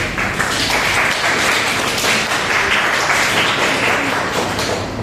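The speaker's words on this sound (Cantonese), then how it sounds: "俾啲掌聲自己先啦" A seated audience at a youth Taoist tai chi cultural sharing event breaks into loud, sustained applause, many hands clapping densely and evenly for the full five seconds with no talk.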